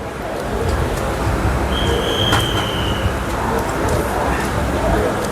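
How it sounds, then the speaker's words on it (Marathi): The Mandovi Express runs along the track with a steady, loud rumble, a brief high whine rising midway and faint voices in the background. "ट्रेन पण सुरू झाली आपली आता."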